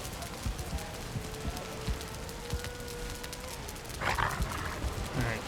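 A dog in the Valheim video game makes faint, brief whimpering or barking sounds over a steady rain-like background hiss, with a slightly louder burst of activity near the end.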